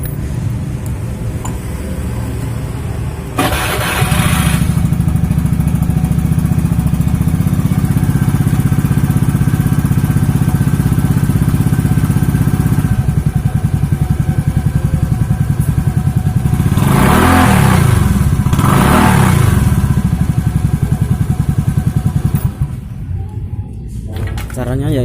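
Honda Beat scooter engine with a Tsukigi exhaust whose glasswool packing is burnt out, idling loudly up close with a throaty drone and two sharp revs, then cutting off; speech is heard briefly at the start.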